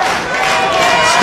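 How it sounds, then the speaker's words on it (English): Wrestling arena crowd chanting for Jeff Hardy during a match against AJ Styles, a loud, dense roar of many voices filling the short moment. "Some Hardy chants"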